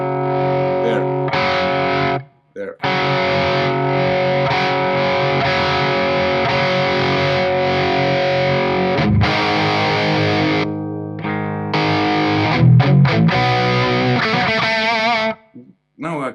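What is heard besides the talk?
Warm Audio Centavo overdrive pedal op-amp clipping distortion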